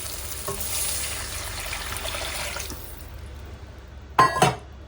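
Two glasses of water go into a hot frying pan for a simple one-ingredient breakfast dish, giving a steady hissing sizzle that fades, then a short clattering knock near the end.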